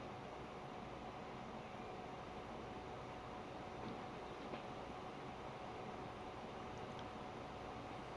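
A train in the Transport Fever 2 video game, hauling planks and logs, rumbles in a steady, low, continuous drone with faint metallic squeals, quiet and even throughout.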